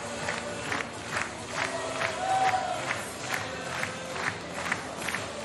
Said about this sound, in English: That is definitely the German crowd you can hear now.